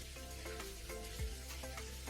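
Bay leaves sizzling in hot oil for a prawn curry, a soft steady frying crackle with small pops and a low stirring scrape, faint and close with no talk.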